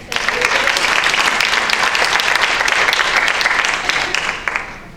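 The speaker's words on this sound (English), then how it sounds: "A hearty round of applause, please." A hearty round of applause from participants at a mentor-teacher training workshop; loud, dense clapping sustained for several seconds before tapering off.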